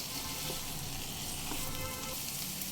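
Soybean chunks and fried potatoes are sautéed with spices in a pan, producing a continuous, even sizzle with no voices and no pauses.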